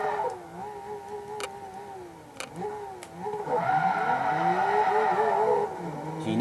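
A Nissan S14 in the video game Forza 2 accelerates and drifts, its engine note rising and wavering with tire squeal building in the second half, moderately loud and unbroken by talk.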